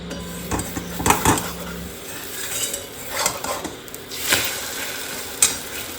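Eggs fry in a pan in a home kitchen late at night, with a soft sizzle beneath intermittent clinks and scrapes of utensils against the pan, no voices.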